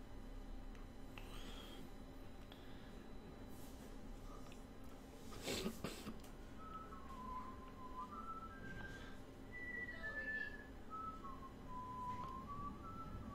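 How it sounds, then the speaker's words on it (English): Someone whistles a faint, wandering melody of sliding notes at a distance, heard against a low ambient background in a Game of Thrones game scene. "whistling, not whispering"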